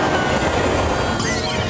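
Train in a film trailer rumbles and clatters steadily with metallic rail noise, loud and continuous, shifting to brighter hiss near the end.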